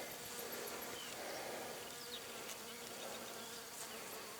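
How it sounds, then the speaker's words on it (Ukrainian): Bees hum softly and steadily outdoors on flowering pink honeysuckle, a faint continuous buzzing with no voices. "Бджоли на ній повно."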